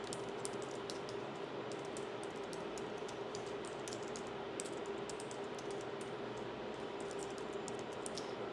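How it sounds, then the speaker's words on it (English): Fingers typing personal details on a computer keyboard, a quiet, steady patter of rapid key clicks with uneven rhythm over a low background hum, no talking. "And now you're going to type in your personal information."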